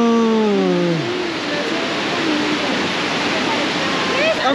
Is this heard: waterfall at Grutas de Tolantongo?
yes